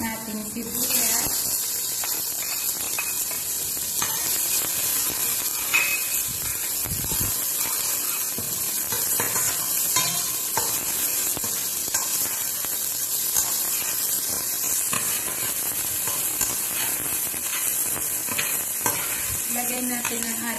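Onion sautés in a pan with a steady sizzle as a utensil scrapes and clinks through it in repeated strokes, with a voice speaking briefly now and then.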